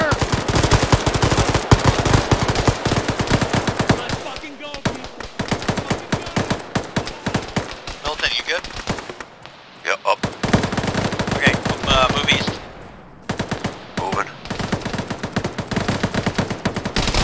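Sustained bursts of machine-gun covering fire ring out in a tactical military shooter game session, loud and nearly continuous with brief pauses, while players' voices come over the top of it.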